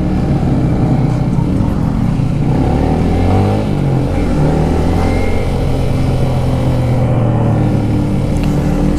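A Yamaha motorcycle engine on a racetrack at a trackday revs after the clutch is released, a loud continuous drone with rising and falling pitch throughout, no talking.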